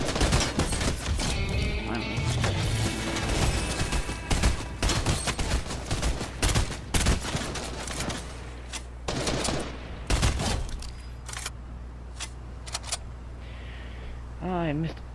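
Dense, rapid gunfire rattles through a shooter video game, loud bursts and single shots packed closely for several seconds, then thinning out to scattered shots over a low hum.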